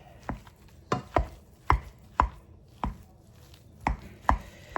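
Garlic cloves being mashed with a small hand masher, a series of firm, close thuds in an irregular rhythm, about nine strikes, with no talking.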